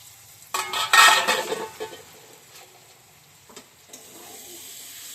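Masala stir-fried in a pan, a brief burst of sizzling and spatula scraping near the start that fades to quiet, then a couple of softer stirring scrapes.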